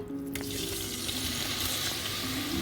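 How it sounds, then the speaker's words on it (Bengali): Paneer cubes fry in a kadai with a dense, continuous sizzle that holds steady throughout, with no one speaking. "কড়াতে এবার আমি পনিরগুলো দিয়ে দেবো"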